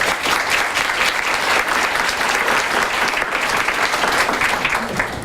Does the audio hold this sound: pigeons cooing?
no